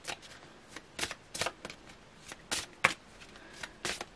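Tarot cards are shuffled by hand, close up, in a string of quick, crisp bursts of riffling and slapping separated by brief pauses.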